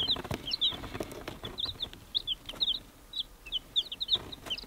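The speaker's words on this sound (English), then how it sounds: "And here are our chicks." Day-old chicks peeping in a steady stream of high, short chirps from several birds close by, over a faint background hiss with no talk.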